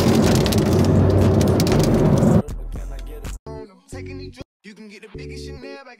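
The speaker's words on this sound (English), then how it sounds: "Now it's raining." Rain pours in New York City in a dense hiss for a couple of seconds, then cuts off, followed by someone speaking in a quiet room.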